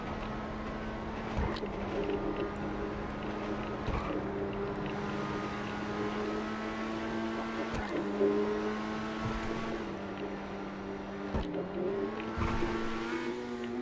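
A car engine in GTA Online holds a steady high drone, with revs dipping sharply several times at gear shifts and then climbing again, loud and continuous throughout.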